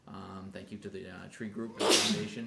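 A single sneeze bursts out near the end at a town council meeting, loud and close, following a person speaking.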